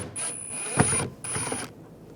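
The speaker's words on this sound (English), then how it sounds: "Using a Phillips head screwdriver," A Phillips head screwdriver backs a screw out of a 2011-2018 Ram 1500 rear exterior door handle, two close bursts of ratcheting, grinding turns with a faint high whine.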